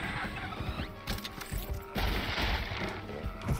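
Gunfire in Journey to the Savage Planet's Hot Garbage DLC: clattering shots and mechanical weapon noise in close bursts, growing heavier toward the end, with no talking.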